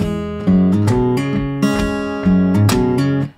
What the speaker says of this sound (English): he adds like a little bit more of that syncopation by popping the top strings